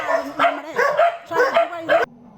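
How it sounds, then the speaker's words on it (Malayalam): Stray dogs at a shelter housing about forty animals bark repeatedly in loud, close bursts, several overlapping yelps in an uneven rhythm with a hint of whimpering. "ഏകദേശം 40ഓളം തെരുവു നായകളെയാണ് ഇവിടെ വളർത്തിക്കൊണ്ടിരിക്കുന്നത്."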